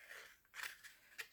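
Scissors snip through a cardboard toilet-paper roll, giving a couple of short, close, crisp crunching cuts in a quiet room.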